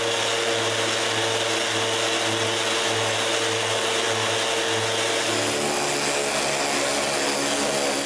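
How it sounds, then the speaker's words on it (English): A power sander does the final sanding on a wooden water cabinet, a steady loud whir running throughout with a slight drop in pitch partway through, and no voices. "I just need to do the final sanding."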